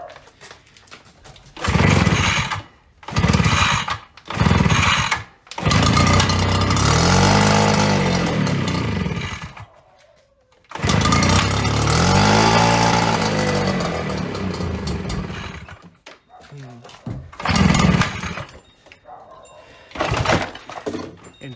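A 65cc backpack leaf blower's two-stroke engine is pull-started: several short coughing bursts, then it catches and runs loudly at a steady, buzzy roar, cuts out, restarts for another long run and ends with a few sputtering revs.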